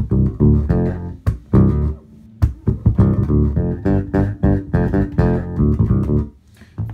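A bass guitar through an octave pedal with the mid boost off, doubled octave tone, plays a low, choppy riff of short plucked notes, loud and close, with no talking.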